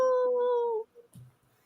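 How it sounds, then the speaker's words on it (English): A wolf howl from the WolfCop film rises as one long sustained wail, followed by a brief softer trailing sound and a faint thud. "Obligatory howl."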